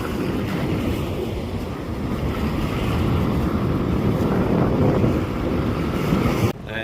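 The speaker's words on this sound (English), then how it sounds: "Sorry for the wind, folks" Wind buffets the microphone at the shore as a continuous loud low rumble, with a faint wash of surf behind it and a sudden cutoff near the end.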